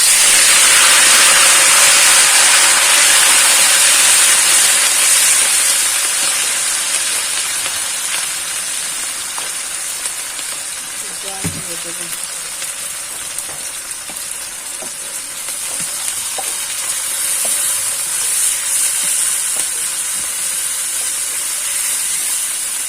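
Ground onion, garlic and cumin paste fries in a pan for koi fish bhuna, a steady loud sizzle and hiss that softens slightly midway, with a few faint clinks of stirring and no voices.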